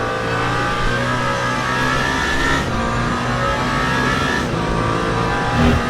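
The number 8 prototype race car in Le Mans Ultimate, at the 24 Hours of Le Mans, drones past loud and steady, its engine note rising and falling through gear changes with no talk over it.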